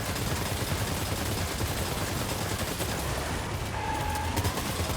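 Sustained rapid gunfire in the video game Death Stranding 2 forms a dense, continuous rattle of shots at a steady loud level, with a faint tone sounding near the end and no talk.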